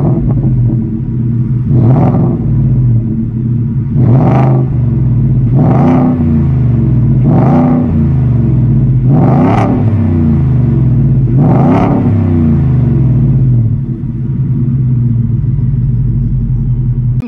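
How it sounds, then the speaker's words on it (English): A deep V8 engine in a new retro-style Ford F150 pickup idles with a heavy rumble, revved six times in sharp bursts spaced a couple of seconds apart, loud and close. "there is simply no way you can drive this down the road and not have the V8 sound"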